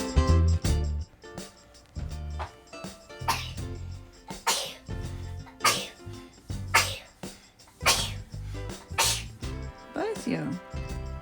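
Several loud, sharp bursts repeat at irregular intervals, sounding like a string of sneezes close to the listener.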